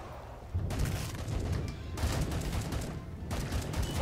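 Shotgun blasts in the Killing Floor 2 video game, fired amid battle with Zeds: three loud, broad blasts about a second and a half apart, each trailing into a continuous roar of in-game noise.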